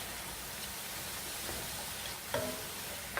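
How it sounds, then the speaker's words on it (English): Ground meat for taco filling frying in a pan, a steady soft sizzle running throughout with faint scraping of a utensil breaking it up and one brief clink of the spoon against the pan; close, no talk. "Break up all this meat."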